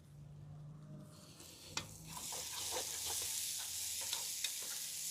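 Finely chopped onion fries with garlic in a pan, a steady bright sizzle that swells as the onion goes in, with scattered close spoon scrapes and taps while it is stirred.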